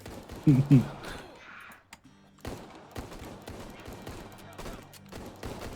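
Gunfire from shooting zombies in the video game Salt Mining the Zombies, a few loud sharp shots early followed by scattered quieter bursts and thuds, with a voice talking partway through.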